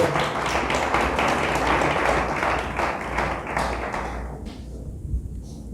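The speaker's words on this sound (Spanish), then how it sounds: "Dale fuerte el aplauso a Dios." Church congregation applauds in a steady, fairly loud patter of clapping that thins and fades out toward the end.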